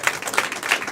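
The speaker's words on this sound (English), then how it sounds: "Clap for Alex," Inside a room, an audience claps for Alex: a short burst of mixed hand claps with a few distinct sharp slaps, moderately close and lasting about a second.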